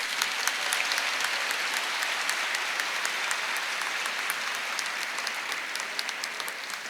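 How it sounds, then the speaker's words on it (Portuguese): Steady, dense applause from a seated audience at a panel discussion, loud and continuous for the full stretch with no voices over it. "Gostaria de pedir uma salva de palmas"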